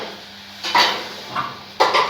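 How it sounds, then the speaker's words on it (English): Sadza being scooped onto a plate, a few soft scrapes and dull knocks of a utensil against the dish over faint background hiss. "Put a bit in the plate."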